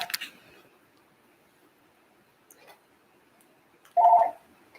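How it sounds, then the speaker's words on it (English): A phone line rings once near the end, a short, loud electronic tone burst following a few seconds of near silence with faint small ticks. "my phone line is ringing"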